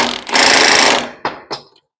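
A pneumatic impact wrench hammers on the rear leaf spring bolts of a 1969 Ford F100. One loud, sustained rattling burst of just under a second is followed by two short, sharp hits, and then it goes quiet.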